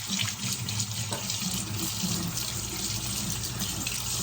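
Tap water runs steadily into a sink while makeup brushes are rinsed under it, a close, continuous splashing rush with no speech.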